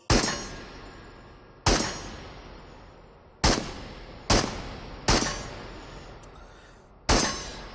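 Six separate semi-automatic shots from an AKM rifle crack out at an uneven pace outdoors, each one loud and close with a long decaying echo after it, and no voices over them.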